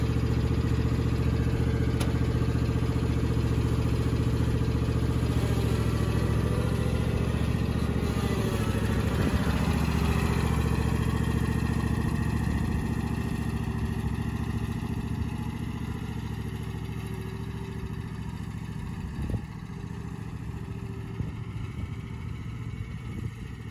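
A riding lawn mower engine runs in a continuous, steady drone at moderate distance, easing slightly quieter toward the end, with no voices over it.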